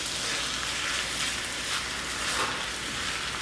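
Eggplant caponata with tomato paste and capers being stirred in a hot pan, a continuous close sizzling hiss with soft scraping underneath, no talk.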